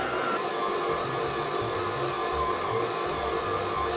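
KitchenAid stand mixer kneading stiff bagel dough, a steady close motor whir with a faint low thumping from the dough, continuous and unchanging throughout with no talking.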